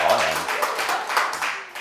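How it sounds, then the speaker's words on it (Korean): Students in a lecture class clap together in a brief, fairly loud round, with a voice briefly heard at the start. "박수 한번 쳐주시고요"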